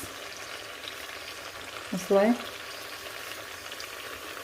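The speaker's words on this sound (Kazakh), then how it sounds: "Етіміз қуырылып жатқан аралықта енді жуамызды саламыз." Meat frying in a kazan for kebab as onion goes in, a soft steady sizzle with a short louder clatter of stirring midway, and a brief spoken word.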